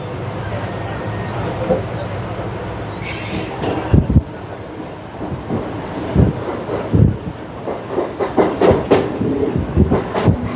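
A Mumbai fast local train on the Central line from Kalyan to CSMT, near Kurla, runs steadily with a loud rumble, rushing wind and rhythmic clickety-clack of wheels over rail joints, while a voice talks over it.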